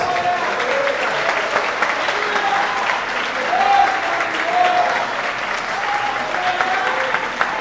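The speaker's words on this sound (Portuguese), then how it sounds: "Aplaude a Jesus." Church audience applauding during a Portuguese-language service, a continuous wash of many hands clapping with faint background music or voices mixed in, fairly loud and even throughout.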